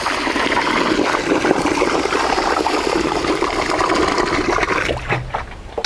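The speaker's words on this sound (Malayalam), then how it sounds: "വെള്ളം ഒഴിച്ചൊന്ന് കഴുകിയെടുക്കാം." Water poured over rice to rinse it while making chicken biryani: a continuous, close gushing pour that swishes and splashes, tapering off near the end with a few drips and a light knock.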